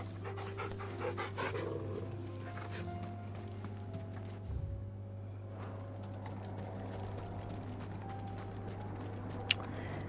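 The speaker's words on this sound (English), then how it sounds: "Why are you barking?" A dog in the Final Fantasy XVI video game pants steadily and quickly at close range over a constant low hum, with no voices.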